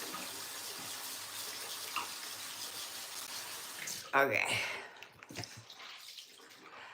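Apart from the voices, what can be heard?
running water rinsing off a saffron face mask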